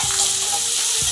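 Ginger garlic paste frying in a pan, giving a short, steady hiss of sizzling with faint stirring underneath.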